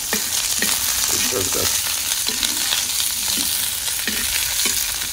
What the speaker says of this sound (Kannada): ಕೆಂಪು ಚಟ್ನಿ ಎಷ್ಟು ಫ್ರೈ ಆದರೂ ಸಾಕು ನೋಡಿ